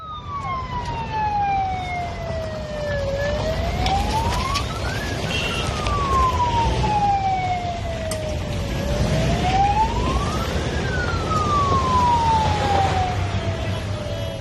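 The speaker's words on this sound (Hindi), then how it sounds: "किस तरह से सायरन के साथ गाड़ी निकलती है" A wailing emergency siren sweeps up and down in long, repeated cycles, loud and close, with steady traffic rumble underneath.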